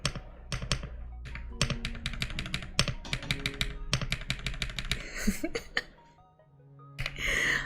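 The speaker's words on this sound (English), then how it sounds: "that's the new keyboard" Rapid, clicky keystrokes clatter close by in uneven bursts, with a throat clear and a short pause before a final burst of noise.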